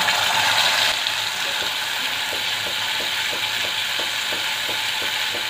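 A paste of poppy seeds, cashews and green chilies sizzles in hot oil, starting with a loud burst that settles to a steady fry, while a regular series of clicking taps runs underneath.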